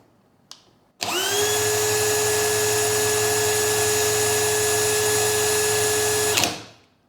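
A DeWALT DCD999N cordless brushless hammer drill spins up at speed 2 after a small click and holds a loud, steady high-pitched whine for about five seconds, then winds down.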